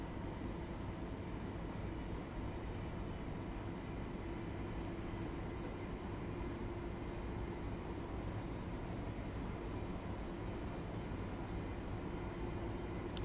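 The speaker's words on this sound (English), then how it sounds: "When it becomes or sounds more like a normal train." A Class 700 electric train running in Train Sim World 3, a steady, even rumble of wheels on rails with a faint hum, constant and unbroken throughout, no voices.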